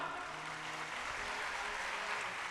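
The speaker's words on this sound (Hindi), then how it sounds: "एक बार अब दीदी जी के लिए तालियां।" A gathered audience at a Hindu religious discourse claps steadily, a dense, even wash of many hands sustained throughout, heard from a moderate distance and fairly quiet.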